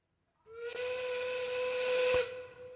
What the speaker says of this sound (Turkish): yemek düdüğü çalıyor.